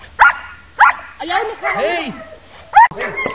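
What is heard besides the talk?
dog barking during protection training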